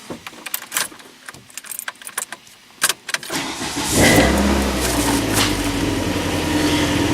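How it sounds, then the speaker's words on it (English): Keys jangle in several close, irregular bursts, then a four-cylinder car with a Magnaflow performance exhaust starts and settles into a loud, steady idle. "Get my keys."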